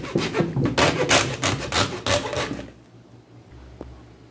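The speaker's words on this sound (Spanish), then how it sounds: "Acá voy a cortar por acá con una segueta." A hacksaw cuts through a tube for a homemade TV antenna in quick, rough back-and-forth strokes. The close, rasping strokes repeat for about two and a half seconds, then stop and leave quiet room noise.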